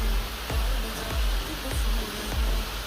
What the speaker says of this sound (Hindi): तो देखिएगा आप लोग झरना बहते हुए